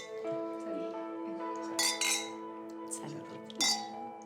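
Wine glasses clink together in a toast, giving several bright, ringing taps with soft lingering tones, set against quiet background music in a room.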